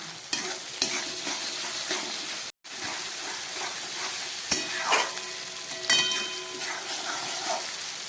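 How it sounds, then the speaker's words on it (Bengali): Shrimp and potato pieces fry with tomato in a hot pan, giving a steady close sizzle broken by sharp spatula scrapes and knocks, with a brief silent gap near the start. "টমেটো দিয়ে আবার একটু ভেজে নিচ্ছি"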